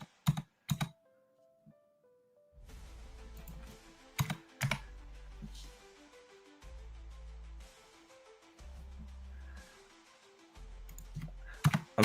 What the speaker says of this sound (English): I'm so used to typing titles out.